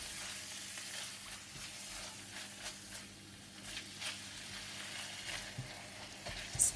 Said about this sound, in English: Stir for 1 minute until the minced pork has changed color and it's no longer red.